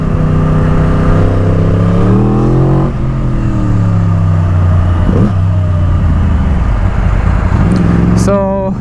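A Yamaha R1 sports motorcycle engine idles and revs steadily nearby, its pitch rising and falling in several swells over about nine seconds, with a sharper rev burst near the end.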